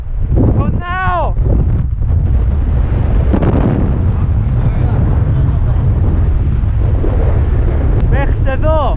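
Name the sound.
strong mountain wind blowing snow, Mount Olympus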